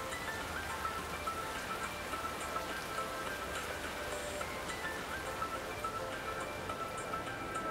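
Steady rain falls in the video game Like a Dragon: Infinite Wealth, a dense, even patter of drops hitting surfaces that continues unbroken at a moderate level with no talking.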